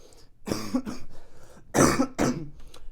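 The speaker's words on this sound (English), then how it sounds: "Sorry about that, I got a cough going on here." Two loud, close coughs, each a harsh burst followed by a shorter one, with quiet gaps between.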